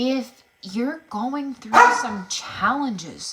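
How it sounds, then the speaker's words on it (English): A few dogs bark in short, sharp bursts close by, repeating several times while a person keeps talking over them. "sorry about the dogs, my friends"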